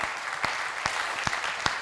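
An audience at a Hindi poetry recital claps in a thick, continuous wash, with several louder individual claps popping out at roughly regular intervals above the crowd.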